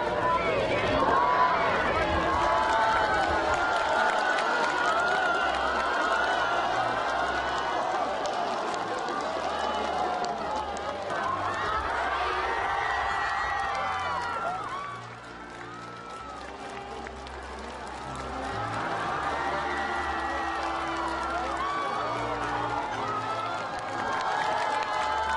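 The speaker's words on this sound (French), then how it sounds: "des personnes de toutes les ethnies l'ont chaleureusement accueilli sur le bord de la route, l'applaudissant et l'acclamant longuement" Roadside crowd of people of many ethnicities warmly welcoming someone, with sustained applause and cheering running steadily under a talking voice and a bed of other sound.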